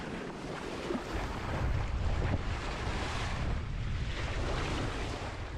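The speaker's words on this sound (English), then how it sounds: "it's a quick 2-hour sail with the wind on our bow" Steady wind roars across the microphone aboard a sailboat at sea on the 11-nautical-mile passage from Carriacou to Ronde Island, sailing into a 50-knot headwind, with a continuous low buffeting rumble and wash of waves throughout.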